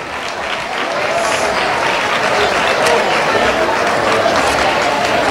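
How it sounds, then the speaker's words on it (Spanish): Audience applause at a town fair on stage for the women presented, loud and sustained broadband clapping filling the whole stretch with crowd noise mixed in, close and steady. "Un aplauso para todas ellas."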